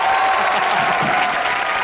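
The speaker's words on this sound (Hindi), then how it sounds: "जोरदार तालियां" Studio audience at a live Indian comedy show giving loud, dense, continuous applause with a crowd murmur beneath.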